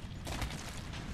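A weapon reloads in a shooter video game: a short, dense mechanical clatter and rattle against a busy, noisy game backdrop.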